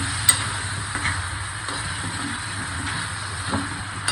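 Boiled mutton sizzles steadily in hot oil while being stirred, a soft continuous frying hiss with faint scraping at close range and no voices.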